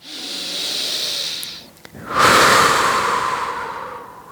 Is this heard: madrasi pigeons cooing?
no